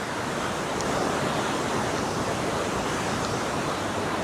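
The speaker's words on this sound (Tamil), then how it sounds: "Niagara falls state park." Niagara Falls roars at night as a dense, steady wash of rushing water, unbroken and even throughout, with no voices.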